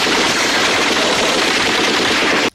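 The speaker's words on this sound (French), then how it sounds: "Reb, question de passer le temps, décide d'assassiner des Vietcong dans la jungle" Sustained loud automatic gunfire in a 1987 jungle action film, a dense unbroken machine-gun barrage that cuts off abruptly at the end, with no talk.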